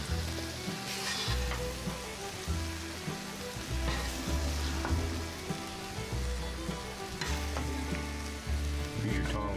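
Onions frying on a flat griddle give a continuous dense sizzle, with periodic scraping and stirring strokes of a spatula cutting through, close and steady.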